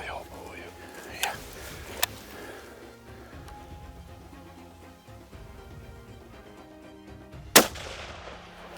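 Hunting rifle shots at plains game in Niassa Reserve, Mozambique: a few sharp, distant-sounding reports spaced apart, the last one the loudest, with quiet outdoor background and low murmured voices between them.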